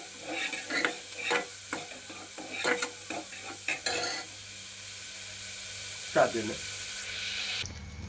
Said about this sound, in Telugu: ఇది బాగా brown colour onion brown colour వచ్చేంత వరకు కూడా బాగా వేగించుకోవాలి